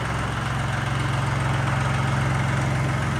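A small old Kubota L1-18 tractor engine idles steadily with a low, rhythmic chugging throb, close and continuous throughout.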